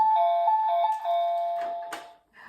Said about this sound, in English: The door opens here and there's a little doorbell.